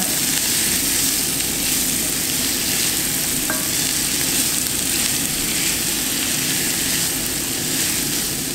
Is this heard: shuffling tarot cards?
no